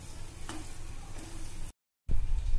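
Lauki halwa, a bottle gourd pudding sweetened with sugar, is stirred as it cooks in a pan, giving a steady low sizzle and scraping with a few brief spoon clinks, broken by a short gap of silence.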